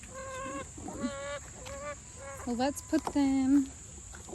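Backyard chickens cluck in a vegetable garden during a sweet corn harvest, short fowl calls coming in bursts while people talk nearby.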